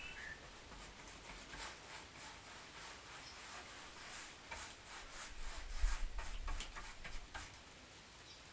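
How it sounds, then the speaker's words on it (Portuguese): A brush spreads varnish along the grain of wood in an alfaia drum-making workshop, making faint, soft rhythmic rubbing strokes that repeat close by in a quiet room. "O segredo é manter a pincelada sempre do mesmo jeito, seguindo a fibra da madeira"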